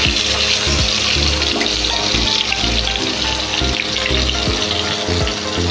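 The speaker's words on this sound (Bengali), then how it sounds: "আমরা একটা একটা করে পটলগুলোকে ভেজে নেব, লাল লাল করে একটু ভেজে নেব।" Salted, turmeric-coated pointed gourds fry in hot oil with a loud, dense, continuous sizzle, close up, with no voices over it.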